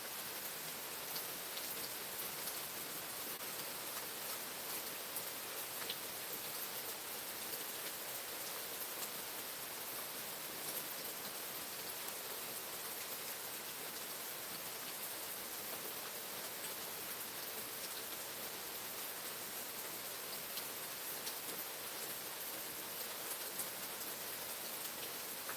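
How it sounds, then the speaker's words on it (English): Steady rain falls on a quiet morning during a wet spell with flash flood warnings, a dense, even patter that holds unbroken and moderately soft for the whole stretch, with no voices. "I'm here by myself and listening to the rain"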